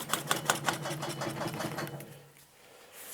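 Mechanic PowerFix Auto electric vacuum suction cup pumping in a quick run of sharp rhythmic mechanical pulses, fairly close, then releasing air and falling quiet near the end.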